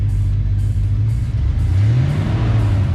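A Ford Fox Body car's engine hums at a steady idle, then climbs slightly in pitch as light gas is given, a close continuous drone with no talk.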